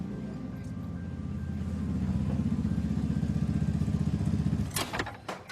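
A Vespa scooter engine runs steadily at a workshop, a low rumbling idle that builds slightly before a few sharp clatters near the end.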